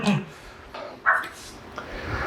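Dogs in a home kitchen give a few short, high whimpers and yips, brief and close, with a voice murmuring between them.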